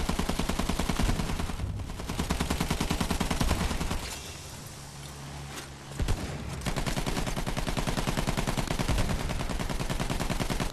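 Sustained machine gun fire in the World War I shooter Battlefield 1, loud rapid bursts pounding almost continuously, with a brief lull in the middle before the firing resumes.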